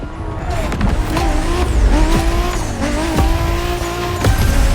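A Toyota Supra in the racing video game The Crew Motorfest drives hard, its engine revving loudly with repeated gear shifts, rising and falling pitch, and tire squeal and skidding beneath the steady roar.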